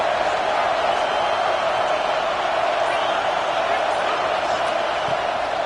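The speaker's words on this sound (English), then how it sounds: "Decibels rising as the crowd gets behind this defense on 3rd down" Steady, dense stadium crowd roar holds at an even level through a third-down defensive stand in a football video game, a broad continuous wash with no distinct peaks.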